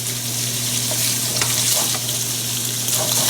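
Spicy Italian sausages frying in a pan with a steady, close sizzle and occasional stirring clicks, plus a constant low electrical hum underneath; no one speaks.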